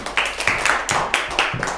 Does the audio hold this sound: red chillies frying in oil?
no